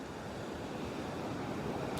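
Ocean surf at Pawleys Island on an overcast morning, 2 to 3 foot choppy waves rolling onto the beach, a continuous broad wash of breaking water mixed with wind noise, with no voices.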